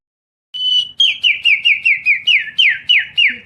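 A boy whistles an imitation of an oriental magpie-robin song, a long clear note followed by a rapid run of about ten loud, close descending chirps.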